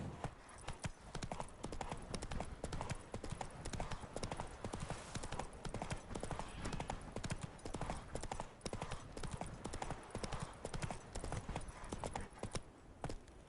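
Horse hooves clip-clop in a brisk, even gallop through The Witcher 3: Heart of Stone, continuous and close for the whole stretch with no voices over it.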